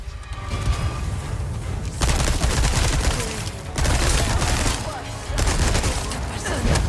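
Gunfire from Resident Evil 4 Remake, in the Separate Ways campaign as Ada Wong: loud, dense bursts of rapid shots in three sustained volleys, each separated by a short drop in volume.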